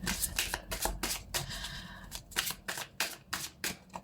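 Guidance cards being shuffled and drawn by hand, a quick series of close, crisp riffling and slapping bursts in an uneven rhythm, clear and alone.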